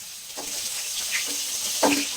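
Fish fries in a pan in a home Bengali kitchen, a soft continuous sizzle and hiss with a couple of brief clinks from stirring, fairly close and quiet.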